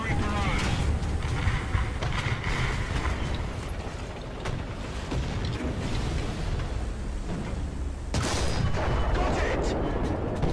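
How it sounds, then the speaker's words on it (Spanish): Booming artillery and gunfire in the War Thunder video game, a dense, continuous barrage of loud blasts with a sharp burst near the end, with voices talking over it. "Tío, artillería."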